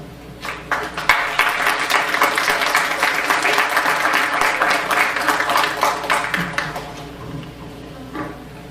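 A conference audience applauds its speakers with dense, sustained clapping that swells, holds for several seconds and then thins into scattered claps.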